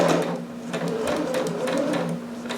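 A home sewing machine stitches fabric for a harem jumpsuit, giving a steady mechanical whir with a rapid rhythmic patter that continues at close range for the whole stretch.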